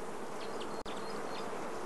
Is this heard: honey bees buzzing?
yes